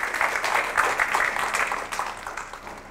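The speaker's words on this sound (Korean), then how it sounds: "이때는 박수 좀 치소." A lecture audience at a police station talk gives a short burst of steady applause that fades slightly toward the end.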